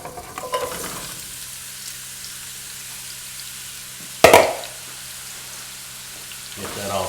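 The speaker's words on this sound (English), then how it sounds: "Yep, sounds like it's sizzling just fine." Shrimp sizzle in hot oil in a pan, a steady frying hiss that carries through the clip, with a sharp clatter about two-thirds of the way through as more shrimp go in.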